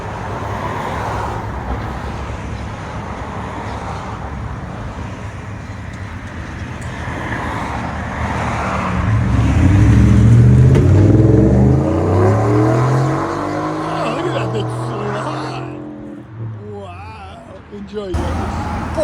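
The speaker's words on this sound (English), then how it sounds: "Ford F-150 with Flowmaster Outlaws True Duals 2023." A 2023 Ford F-150 with a Flowmaster Outlaw true dual exhaust rumbles nearby, building to a deep, throaty rev swell midway before fading, with traffic noise and people talking in the background.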